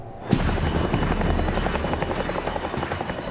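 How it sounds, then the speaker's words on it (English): A Chinook helicopter roars in abruptly and stays loud, with a dense, steady rotor thump and engine rumble that fill the whole clip. "Roberts' colleagues have been picked up by another Chinook and are on their way back to Qaeda."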